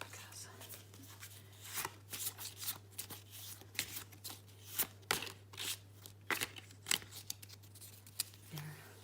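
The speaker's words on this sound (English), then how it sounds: "Have tarot deck here, oops, the moon deck here. I will shuffle that right now" A moon tarot card deck being shuffled by hand, a quiet close series of crisp riffling and sliding card bursts in irregular rhythm, with soft breathy sounds between.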